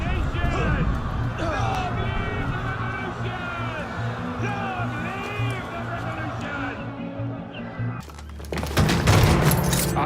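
A firing squad volleys in Assassin's Creed Unity: voices talk first over a low, busy background, then a sudden loud, broad blast of massed musket fire rings out near the end.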